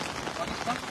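Rain falls steadily during outdoor fishing, a brief close wash of broadband patter with a person talking over it.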